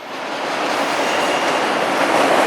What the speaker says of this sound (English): As this auto-rack train was clearing